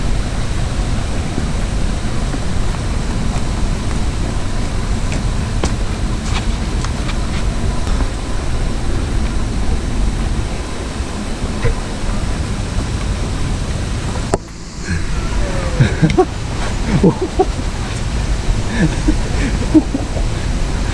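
The Las Buitreras waterfall in Maule, a steady broadband roar of falling water heard close and continuous for the whole stretch, briefly dipping near the end, with some talk.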